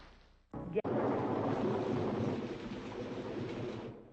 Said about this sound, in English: Just a steady rain now.